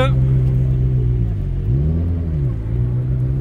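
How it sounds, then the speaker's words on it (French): Sports car engines, including a McLaren and a Mustang, rumble steadily close by as a convoy arrives at a luxury car meet, one rising and falling in pitch as it rolls past, a continuous low drone throughout. "le convoi de Metz qui arrive"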